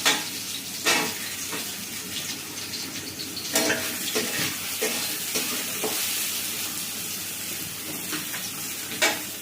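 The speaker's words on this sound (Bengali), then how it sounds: "উচ্ছেগুলো এবার ভেজে নেব।" Bitter gourd frying in mustard oil in a village kitchen, a continuous crackling sizzle with occasional sharp stirring scrapes and clanks of a utensil against the pan.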